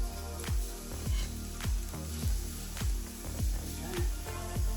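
Vegan lasagne ingredients sizzle loudly and steadily in frying pans, with a regular series of stirring or scraping knocks, close and without speech.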